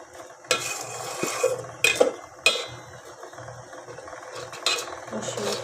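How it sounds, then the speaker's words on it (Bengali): Chicken is stirred by hand with ground garlic, ginger, coriander, cumin, turmeric and chili in a pot, giving soft, wet squelching under sharp clanks of a utensil against the metal pot at irregular intervals; no speech. "আমি একদম মাখিয়ে মাখিয়ে বসাচ্ছি।"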